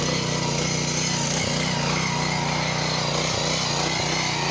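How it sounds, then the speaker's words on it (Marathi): A power weeder tilling soil between dense, tall papaya trees: a steady, loud small-engine drone with a buzzing hum, running continuously, with occasional dips in the low rumble. "कारण एवढा दाट याच्यामध्ये कोणतीच मशीन चालत नाही, फक्त पॉवर विडर चालतं"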